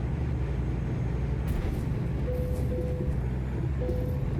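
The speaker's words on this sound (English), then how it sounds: "Don't mind the old Kenworth pulling by you." A Kenworth truck in a driving game rolls past with a steady low engine drone and rumble, joined briefly by a faint higher tone, holding even loudness throughout.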